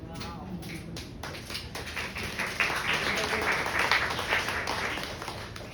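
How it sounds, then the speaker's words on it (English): Audience applause at a poetry reading: a dense wash of many hands clapping that swells midway and stays steady, fairly close and alone without talk. "She hasn't had applause for a while."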